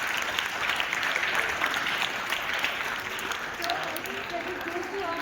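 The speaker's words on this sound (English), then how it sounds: "Clap to them." Audience applause at a school Republic Day celebration, steady continuous clapping from a crowd filling the whole stretch at moderate distance, with some voices mixed in.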